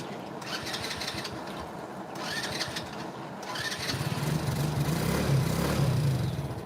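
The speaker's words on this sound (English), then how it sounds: "Gotta get the four-wheeler going." A four-wheeler ATV engine cranks with repeated rough starter pulses, then catches and rumbles into a louder steady run, close by with outdoor background noise.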